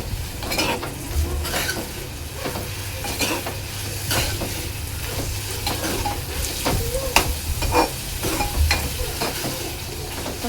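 Onion fries with ginger, garlic, green chili and coriander paste while a spoon stirs and scrapes the pan, a steady sizzle broken by repeated metallic clinks and scrapes, close and continuous.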